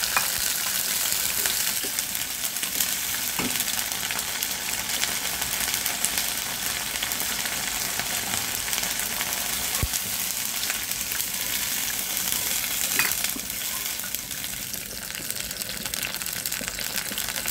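Onion paste and green chili paste stirred and fried in a pan for a shing fish curry, giving a steady, close sizzle with a few faint scraping touches and no talking.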